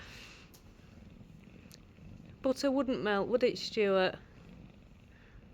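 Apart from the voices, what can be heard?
cat purring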